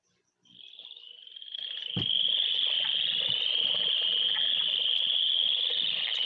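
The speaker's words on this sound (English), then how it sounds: "listening to this, do I have chorus frogs in my neighborhood?" Chorus frogs call from woods in Michigan, a dense continuous trilling chorus that builds quickly after a brief quiet start and stays loud and steady throughout, with no talking.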